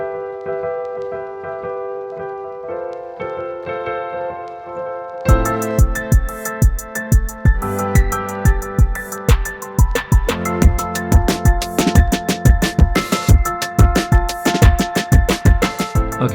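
A soft fabric piano patch on an MPC X plays sustained chords for a song bridge. After about five seconds a punchy beat with crisp hi-hats joins it, loud and close, with no voices.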